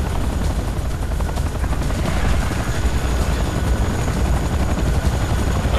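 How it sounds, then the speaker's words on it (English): Enemy aircraft in the video game Command & Conquer: Renegade, a loud, continuous, close helicopter rotor drone that holds steady throughout. "Warning, enemy aircraft detected."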